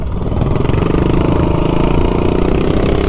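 A 420cc minibike engine fitted with a Volts sprocket roars loudly and steadily as it accelerates and pulls through the rev range, a continuous close engine drone with no voices.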